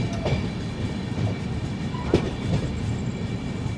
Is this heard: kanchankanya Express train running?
yes